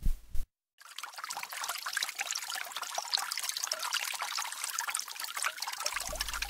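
A fountain trickles water in a steady, bright, continuous splash after a brief pause, alone and fairly close.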